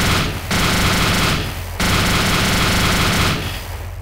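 Sustained automatic gunfire from Arma 2 DayZ rattles loudly in long bursts, broken by two brief pauses, with no one speaking.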